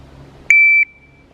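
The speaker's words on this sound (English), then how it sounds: "Go ahead and hit the timer." Single sharp electronic start beep from a shot timer during beginner rifle drills, loud and steady for about a third of a second, then trailing off into quiet.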